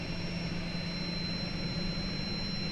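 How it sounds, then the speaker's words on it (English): Auxiliary power unit of an Airbus A300 spooling up in Microsoft Flight Simulator, a steady dense turbine roar with a low hum and thin high whine tones, constant and loud throughout with no talk. "then we'll fire up the APU. Take a listen."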